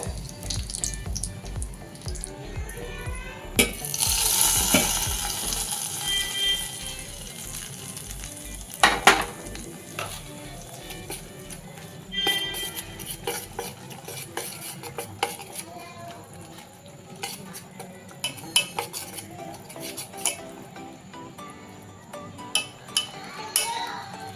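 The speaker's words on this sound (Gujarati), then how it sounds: "આ વઘારને આપણે જે આપણું રવાનું બેટર છે આમાં એડ કરી દેવાનું છે" A hot spice tempering is poured into semolina appam batter and stirred in, giving a brief loud sizzle followed by steady scraping and clinking of a spoon against the bowl, close and alone.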